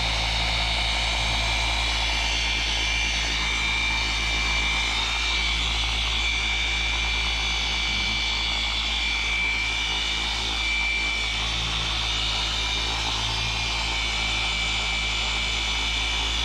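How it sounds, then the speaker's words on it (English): A new polisher runs continuously with a loud, steady motor whine and hum that holds an even level throughout, close to the microphone, with no talk over it. "Trevor got this new polisher today from my brother, from Nick."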